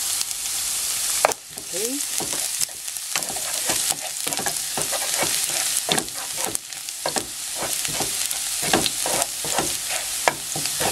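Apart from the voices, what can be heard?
garlic frying in cooking oil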